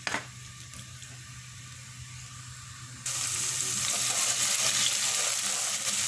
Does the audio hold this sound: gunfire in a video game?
no